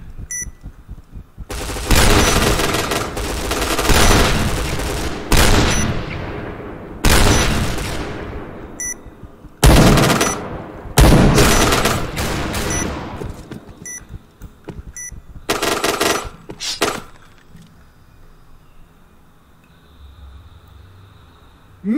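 Automatic fire from the T77 weapon in the online shooter Point Blank comes in loud, clustered bursts separated by pauses, with short game beeps, fading to quieter ambience at the end.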